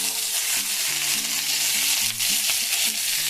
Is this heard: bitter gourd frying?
yes